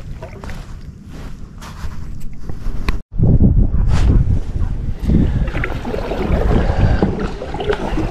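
Strong wind roaring steadily across the microphone while kayaking out on Tampa Bay in winter, with gusty low rumble, splashing water and a brief dropout partway through, no talking.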